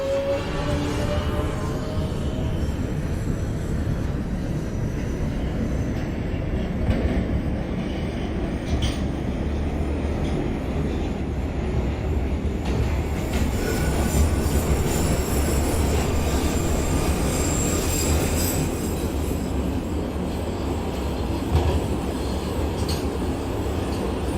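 An NYC Subway R143 train on the J line from the OpenBVE simulator runs continuously and loudly, with a steady rumble of wheels on rails, rhythmic track clatter and occasional high wheel squeals, with no voices.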